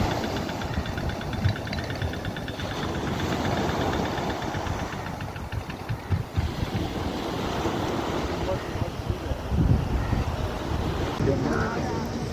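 At a harbour, a distant vehicle engine hauls a fishing boat ashore by rope, its drone buried under heavy wind buffeting and surf, with a voice speaking over it.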